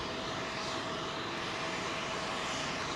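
A Qantas jet at London Heathrow Airport gives a steady, dense engine roar with a faint high whine, holding constant and loud without pause.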